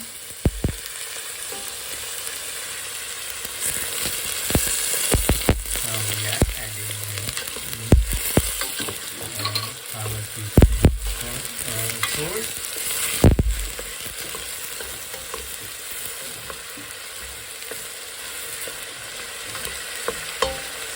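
Onions for goat meat biriyani stirred and fried in a pot, a continuous sizzle broken by repeated scraping strokes and clanks of the spoon against the metal, with no talking.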